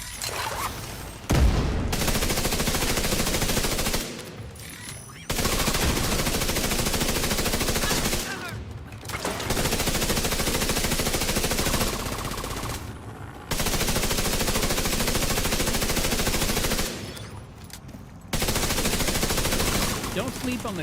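A deployed turret fires in the Battle for Brooklyn video game expansion, letting off long, loud, sustained bursts of rapid automatic gunfire separated by short pauses, repeating several times.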